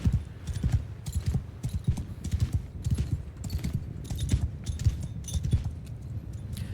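Horse hooves clip-clop in steady, rapid rhythm as a mounted rider paces alongside running troops in a Mount & Blade II Bannerlord battle, close and continuous with faint battle ambience behind.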